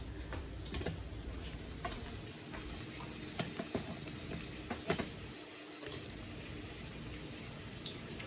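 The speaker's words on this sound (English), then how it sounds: "I'm just gonna lay it in the pan. And just let it fry." Ground beef tacos fry in hot grease in a pan as they are deep fried, with a faint, steady sizzle and scattered soft pops and ticks throughout.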